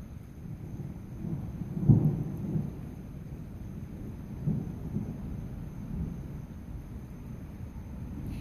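A soft, steady hiss of rain with low, distant rumbles of thunder rolling underneath, one swell noticeably louder before fading back.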